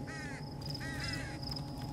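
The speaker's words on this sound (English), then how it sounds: "She was looking at the crow." Crow caws from the video game Them and Us: two clear raspy bursts, each a rapid string of calls, over a steady low ambient hum with a faint high tone.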